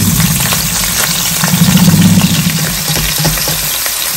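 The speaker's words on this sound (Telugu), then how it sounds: "అట్లా అన్ని పీసెస్ ఫ్రై చేసుకోవాలి" Mutton pieces fry in oil in a pan over medium flame, giving a loud, steady, dense sizzle throughout with faint clatter as the pieces are turned.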